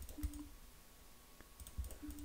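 A computer keyboard struck hard during an intense poker session, a few heavy thuds and clicks in two short clusters with a quiet pause between.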